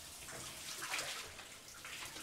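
Shower water runs in a steady, hissing spray, faint and distant, with no voices over it.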